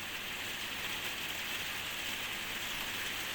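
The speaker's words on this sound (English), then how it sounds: "And it's raining, which makes this the noisiest room on earth." Steady rain falls continuously outside a room, a dense even hiss with no pauses and no voices.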